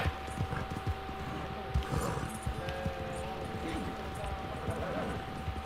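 Hooves of a horse in Red Dead Online clop along in an uneven trotting rhythm, moderately close, while people talk over them throughout.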